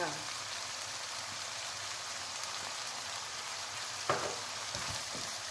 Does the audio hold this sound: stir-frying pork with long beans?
yes